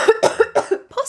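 A person with a lingering cough from a cold and painful sinuses coughs repeatedly, several harsh close bursts in quick succession.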